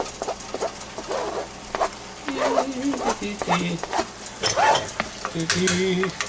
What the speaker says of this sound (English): We'll set this down, and we'll just kind of mix that onion in there.